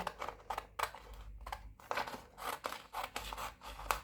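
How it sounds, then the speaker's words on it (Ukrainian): Scissors cut through dress fabric, a close series of crisp snipping strokes in irregular bursts with short pauses between them, alone without talking. "відрізаю спочатку верхню частину переда і спинки"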